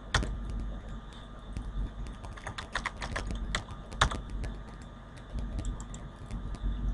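Steady clicking of keys on a computer keyboard as commands are entered in AutoCAD, close and fairly quiet, with irregular taps and a few sharper keystrokes over a low background hum.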